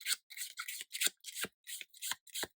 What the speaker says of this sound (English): Just give these a little more of a shuffle.